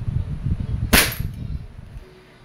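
E&C airsoft Glock 19 Gen 5 pistol fired once during chronograph testing, a single sharp close snap with a quick decay over low background rumble.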